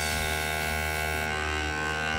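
An airbrush spraying dark blue paint onto the tips of a Deathwing Contemptor miniature gives a steady, close hiss with a faint buzzing hum that runs unbroken, with no voices.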